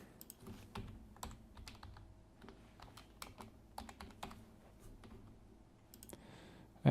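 Someone types on a computer keyboard while setting up a virtual machine, producing a quiet, irregular run of key clicks with brief pauses and a louder final tap.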